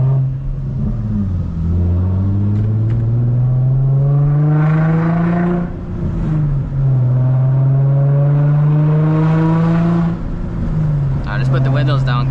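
Loud, close exhaust drone from an Infiniti G35 with a six-speed manual and muffler and resonator delete, rising and falling through several revs and gear pulls, with a brief bark at the end.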